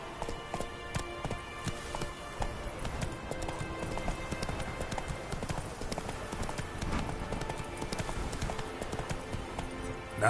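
Hooves of Roach, Geralt's horse in The Witcher 3, clip-clop steadily at a brisk pace over a dense bed of game music and ambience, close and continuous throughout.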